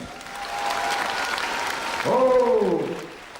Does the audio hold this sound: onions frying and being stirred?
no